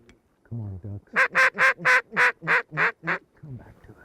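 A group of ducks quacks in a quick run of about eight loud, evenly spaced calls, preceded and followed by softer honking notes, heard over a quiet open South Texas hunting setting.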